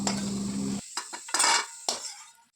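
Nigella seeds and chopped green chilies hit hot oil in a pan: a steady sizzle breaks off into clinks and scrapes of a utensil stirring, with short bright crackling bursts, close by.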